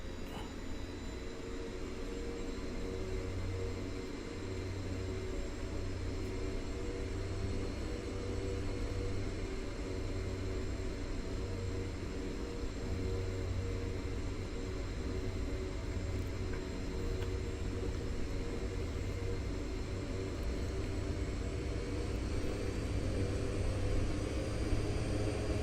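A small airplane engine roars steadily at full power on a short-runway takeoff roll, a loud, constant droning hum with no pauses.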